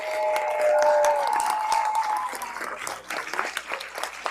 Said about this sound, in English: So let's give these ladies a round of applause.